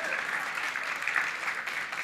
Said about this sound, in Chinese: 感谢大伙热情的掌声